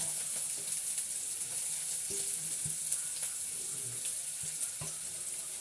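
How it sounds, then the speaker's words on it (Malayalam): Ginger and garlic sauté in a pan for a noodle dish, giving a steady frying sizzle with occasional stirring clinks and scrapes. "ചെറിയ ഇഞ്ചി കഷ്ണം ഇട്ടിട്ട് നമ്മളൊന്ന് വഴറ്റി കൊടുക്കട്ടോ."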